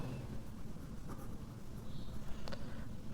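A maths solution being written out by hand, with a steady, soft scratching of pen on paper under a noisy, hissy background.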